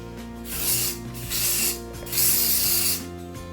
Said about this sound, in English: next thing I'm going to do is hairspray it, make sure it stays there